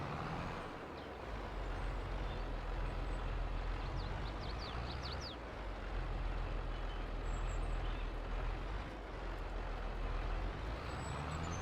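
Truck in Farming Simulator 22 driving down a road past a house, a low steady engine rumble heard from some distance, with a few faint high chirps partway through.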